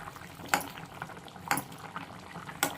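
Vegetables boiling in a covered pot make a faint, low bubbling, punctuated by three sharp clinks roughly a second apart.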